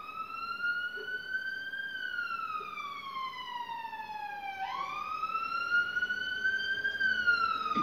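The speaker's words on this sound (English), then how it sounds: "every time I speak to you, you'll hear sirens in the background, every time" Emergency siren on a busy road, sweeping smoothly down and then back up in a long wail that carries steadily across the whole stretch at moderate distance, with no talk over it.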